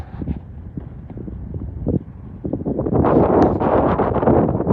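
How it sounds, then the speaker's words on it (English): Wind on a breezy spring day on a hiking trail in Virginia rumbles and gusts against the microphone, with quieter bumps at first before a loud sustained roar of buffeting takes over. "Kind of breezy. Sorry about that."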